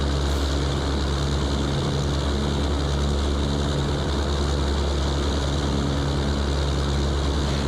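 Steady, droning roar of the B-29 Superfortress "Doc" piston propeller engines in flight, heard close from an engine-side view, a constant loud hum with layered low tones and no speech.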